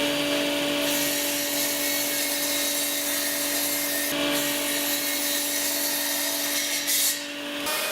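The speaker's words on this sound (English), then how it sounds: "on the chop saw." A chop saw runs steadily through a walnut block in a woodworking shop, a loud continuous whine and cutting hum that persists with a few small dips, with no talking.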